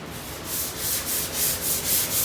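Steady rhythmic sanding on a Volkswagen Karmann Ghia body in a restoration shop, a close, loud, hissing rasp that swells and fades in regular strokes with no voices.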